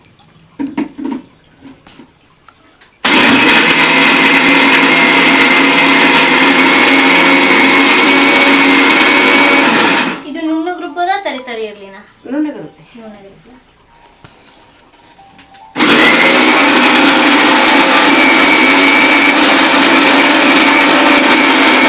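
A mixer grinder roars loudly for several seconds, stops while people talk briefly, then whirs loudly again at full power.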